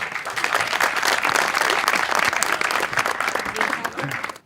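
Dense, loud audience applause fills a mushaira poetry show, sustained clapping from a crowd lasting a few seconds before trailing off.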